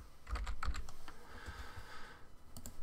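Fingers tap a computer keyboard in quick, irregular bursts of clicks, close and soft, with a short pause in the middle of the typing and no talking.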